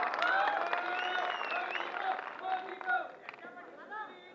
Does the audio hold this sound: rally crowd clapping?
yes